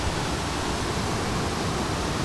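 Continuous rushing roar of the waterfall beside Dhutpapeshwar temple, Rajapur, close and loud, an even wash of cascading water with no pauses or speech.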